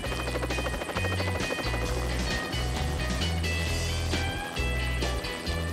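A helicopter flies over mountain terrain, its rotor a loud, steady rhythmic chop with a deep throbbing drone that stays constant and close throughout, with no talk.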